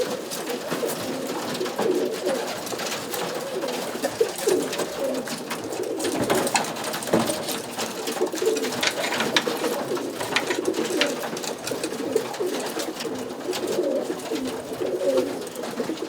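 Roller pigeon hens coo steadily in a loft box, a layered, overlapping murmur of low throaty calls with a soft, continuous texture throughout.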